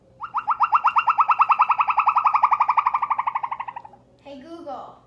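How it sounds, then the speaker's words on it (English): A gibbon calls in a long accelerating series of loud, clear hooting notes, about thirty in a row. The run then fades and a short bit of speech follows. "This is what gibbons sound like."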